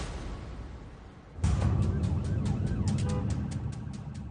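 An ambulance siren at an emergency scene sounds through a dense, loud roar of noise. It comes in as a rapid repeating pulsing wail after a sudden jump in level.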